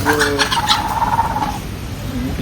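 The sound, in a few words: chicken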